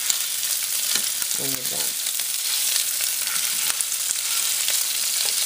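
Sweet Italian sausage sizzles in a pan while being broken into crumbles, a dense steady frying hiss with crackles and scrapes, and a brief spoken phrase partway through.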